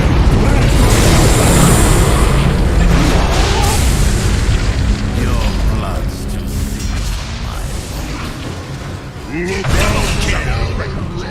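A defensive tower collapses in a loud, booming explosion in Dota 2, a heavy rumbling blast that fills the clip and decays slowly, with game sounds continuing beneath.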